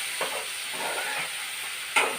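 Raw banana pieces sizzling in hot oil as they cook down for a dry fish and mango curry, a steady close frying hiss with occasional stirring scrapes and one brief louder burst near the end.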